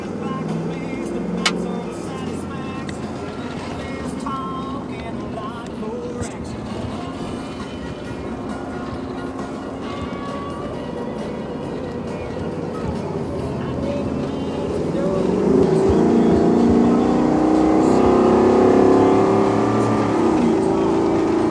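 A 2020 Ford Super Duty pickup with the 7.3L gas V8 accelerating up an on-ramp onto an interstate, its engine drone rising and growing louder toward the end, heard from inside the cab with road rumble and brief voices.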